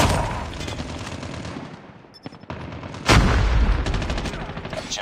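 Call of Duty gameplay gunfire comes in loud rapid bursts of automatic shots with booming impacts, a short lull, then a heavier barrage.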